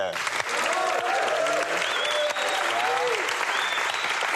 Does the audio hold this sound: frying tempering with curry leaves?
no